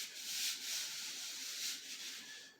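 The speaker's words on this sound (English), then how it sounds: "Probably scrape on this just a little bit more." A dried gourd water jug being scraped in a steady rubbing, sanding rhythm, close and fairly quiet with no voices.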